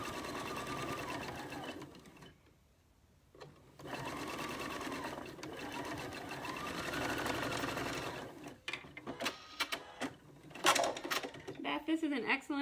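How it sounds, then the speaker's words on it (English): Sewing machine stitching two rows of patchwork together for a pin cushion, running in steady whirring bursts with a short pause, then stopping for handling clicks and rustles near the end; nearby and moderately loud. "we're going to go ahead and stitch this row 1 and row 2 together"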